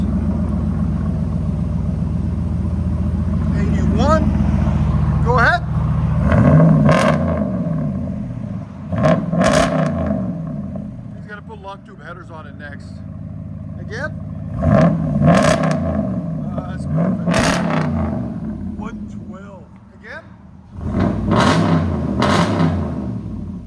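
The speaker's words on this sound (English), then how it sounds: "Can't beat that Hemi sound, baby. Heavy. Idle on true duals." A RAM 1500 with the 5.7L Hemi V8 idles through a true dual exhaust, giving a heavy, deep rumble that swells with a few blips and revs before settling back to a steady, close burble.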